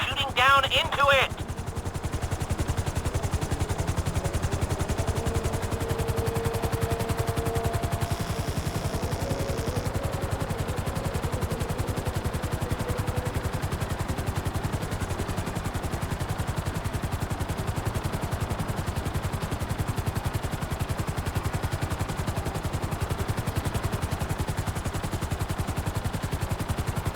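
A helicopter hovers in Grand Theft Auto V, its rotors chopping in a steady low pulse that runs unbroken throughout, with voices talking over it and a brief sharper burst near the start.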